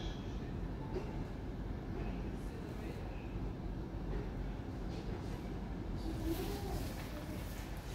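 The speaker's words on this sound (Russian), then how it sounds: "двигаются поезда, двигаются вагоны." Trains and railway wagons moving through a station, heard from above as a steady low rumble with faint distant clanks, a diesel engine among them, continuous and fairly quiet throughout.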